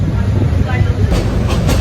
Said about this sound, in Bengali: ভৈরব স্টেশন থেকে আমাদের ট্রেনটি ছেড়ে দিয়েছে চট্টগ্রামের উদ্দেশ্যে